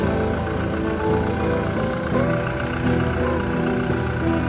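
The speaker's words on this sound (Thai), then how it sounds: "ตอนนี้มันติดแล้วนะอาจจะไม่ได้ยินเสียงเครื่องยนต์สักเท่าไหร่นะครับ" A Toyota car engine idles steadily after a jump start, a continuous low mechanical hum with a faint rhythmic pulse, heard from nearby without any talking.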